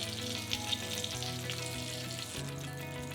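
Meat-stuffed green peppers frying in a pan without water or a lid, giving a steady soft sizzle and crackle throughout under a faint background hum, with no one talking.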